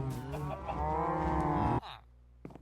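A cow on a Minecraft farm gives a single long, loud, close moo that stops abruptly, followed by faint clicks and a quiet background.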